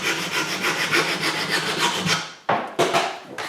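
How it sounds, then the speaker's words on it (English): Rapid back-and-forth sawing on a part half an inch too long, close and loud with a quick steady rhythm, then a brief stop and a few slower strokes at the end. "I need to figure out a way to very quickly cut this off without damaging anything."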